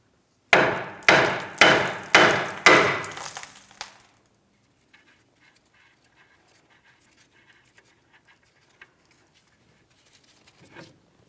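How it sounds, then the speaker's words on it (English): Four sharp, evenly spaced hammer strikes ring out on the steel steering knuckle of a 2007-2014 Ford Edge, each decaying quickly, followed by near silence with faint small clicks and a soft clunk. "We're tapping directly on the knuckle here."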